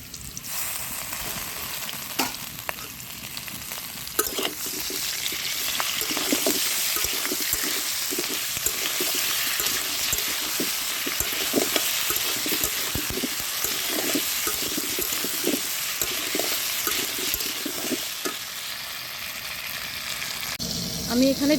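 New potatoes fry in a pan with a steady close sizzle over about twenty seconds, marked by repeated scraping and stirring knocks and brief bursts of crackle.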